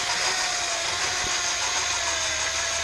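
Power drill driving a Gunson's Easy Lap valve lapping tool, held lightly so it spins and oscillates, during a Jaguar MKII engine rebuild; a steady, close whirring drone with no talk.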